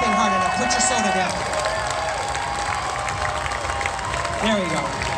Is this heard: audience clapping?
yes